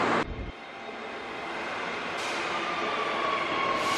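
A passenger train pulls into Ipswich station, a steady rumble and rail noise building gradually, with a faint high squeal rising near the end.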